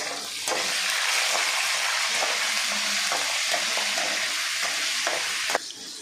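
Mustard seeds and green chillies in hot oil for gongura pulihora, a bright, dense sizzle with scattered pops and a few spatula taps, steady and close, with no talk.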